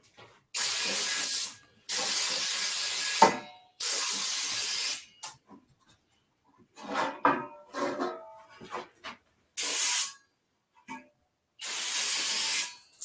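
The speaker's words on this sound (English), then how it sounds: "now we're going to get some brake cleaner here" Brake cleaner hisses from an aerosol can in several sharp bursts of a second or so each, separated by quiet gaps and some light clattering of parts in a garage.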